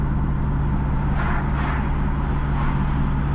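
A car driving east along a road from Unity Hall toward Reading, St James, Jamaica, heard from inside: a steady engine and road rumble with soft swells of tire and wind noise, no one talking.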